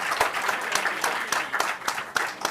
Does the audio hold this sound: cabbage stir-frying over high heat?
no